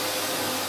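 A household vacuum cleaner runs with a steady, loud, close airy roar while a house is being cleaned, continuous for a brief moment with no talking.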